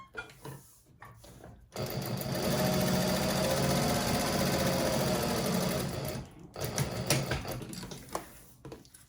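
A sewing machine stitches a channel in handbag lining, running in one steady burst of rapid clatter for several seconds, followed by short stop-start bursts, close by with no talking.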